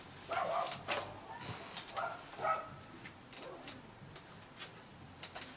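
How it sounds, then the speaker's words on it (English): A dog barks several times at a distance, muffled and somewhat faint, with irregular gaps between barks. "it's the dog outside barking"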